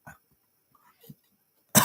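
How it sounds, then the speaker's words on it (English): A single loud, abrupt cough at the very end, following quiet breaths and faint vocal sounds, from a person who had just been yelling. "yelling sometimes will make you cough"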